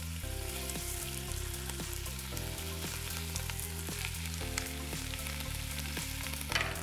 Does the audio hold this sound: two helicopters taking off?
no